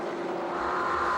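V8 race cars running flat out at Pukekohe circuit, a steady, loud engine drone with a sustained high-revving tone, no speech.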